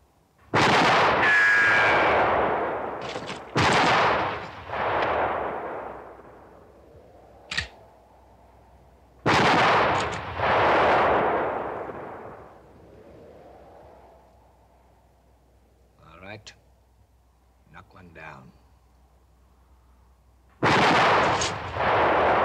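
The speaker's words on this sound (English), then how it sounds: "Get a rifle. Shoot over their heads." Rifle shots fired over people's heads in a western film scene ring out as several loud, close cracks with long echoing tails, spaced apart with quiet gaps between them.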